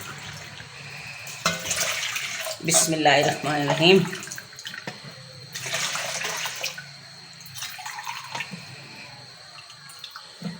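Water is poured into a pot of washed lentils, a splashing, gurgling stream that comes in bursts, with someone speaking softly between the pours.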